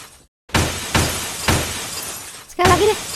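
A car window is smashed, with three sharp shattering crashes about half a second apart, each ringing out with a crackling, glassy decay, followed by a fourth break mixed with a brief squeaky sound.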